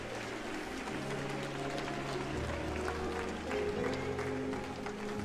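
A church congregation claps and cheers in praise, producing steady, dense applause with mingled voices that continues at an even level throughout.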